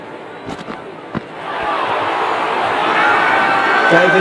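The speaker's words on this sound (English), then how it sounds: "Will you listen to that crowd? They are loving this." Crowd roar from an IPL cricket video game, swelling from a few sharp bat-like knocks into a dense, sustained cheer that grows louder toward the end.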